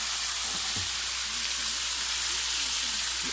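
Cabbage stir-frying in a pan over very high heat gives a steady, loud, unbroken sizzling hiss throughout, with faint low movement sounds beneath.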